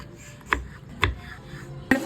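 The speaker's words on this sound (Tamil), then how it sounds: "கத்திரிக்காவை இந்த மாதிரி நீல வாட்டில் கட் பண்ணி எடுத்துக்கலாம்" A knife cutting brinjal lengthwise on a board, giving three sharp, separate taps over a quiet kitchen background.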